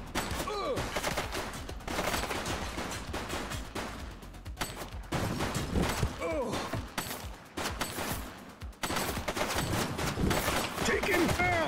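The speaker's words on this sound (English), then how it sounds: "She's shooting!" Repeated gunfire bursts from the police video game The Precinct, a dense run of loud shots with brief pauses over about twelve seconds, mixed with game noise and voices.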